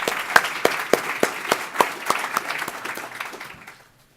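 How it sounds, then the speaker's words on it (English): Audience applause at a college and career pathways summit: a run of sharp, fairly evenly spaced claps, loud at first, gradually thinning out and fading to silence near the end, with no voices over it. "Let's give them all a big round of applause."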